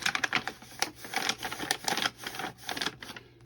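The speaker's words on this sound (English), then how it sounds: "I'm going to grab the top of the paper and sort of fold it against the edge of the book" Paper being folded against the edge of a notebook while covering it with reused Amazon packaging gives a run of soft, close crinkles and taps, irregular and quiet, with no talk.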